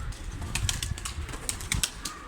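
Pigeons burst into flight, several quick, fluttering wing-flap bursts close by over a quiet background, with no voices.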